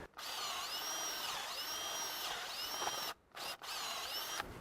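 A power drill whines steadily at close range while drilling a tap hole in a maple tree, its pitch dipping and rising as it bites in, with two short pauses near the end.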